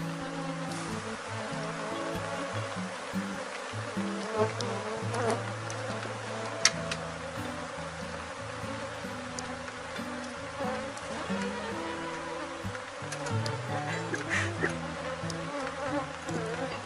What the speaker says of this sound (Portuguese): quando esse enxame sair daqui, vai vir muitas abelhas para cá